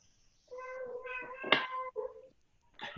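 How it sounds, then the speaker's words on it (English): A cat meows several times up close in drawn-out, wavering calls during an online lesson, loud and clear with brief gaps between calls. "What's that meow?"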